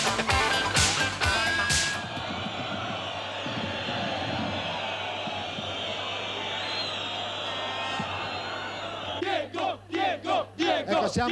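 Napoli ultras in the stadium curve chanting in a loud, sustained crowd roar, with rhythmic bursts of massed shouting toward the end.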